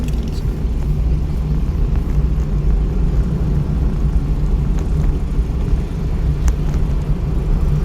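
A learner's car engine hums steadily as the clutch is lifted during a driving lesson in Solan, a continuous low rumble with road noise from inside the cabin, no talking.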